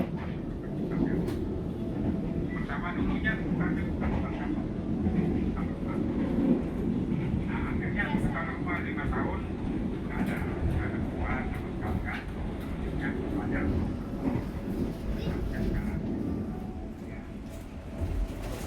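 Inside a Taksaka passenger coach running between Jogja and Jakarta, a steady low rumble and rolling drone fill the cabin throughout, with faint clatter, scattered higher rattles and some muffled background voices.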